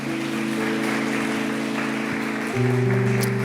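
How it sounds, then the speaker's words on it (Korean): A church congregation claps to welcome a baby, a steady patter of applause running beneath sustained keyboard chords that shift partway through. "박수로 좀 환영할까요?"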